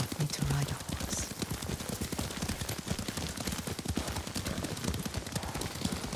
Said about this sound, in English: Lord Sakai taught me to ride a horse.